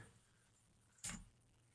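Car keys jangle once in a short bright burst about a second in, close and clear against a quiet, faintly humming room, no one talking.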